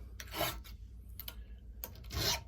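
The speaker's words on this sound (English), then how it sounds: "file all my rakers from the same side" A hand file rasps across the rakers of a chainsaw chain clamped in a vise, giving four quiet, close back-and-forth strokes with short pauses between them.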